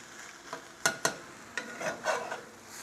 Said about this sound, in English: we're gonna give our eggs one last flip here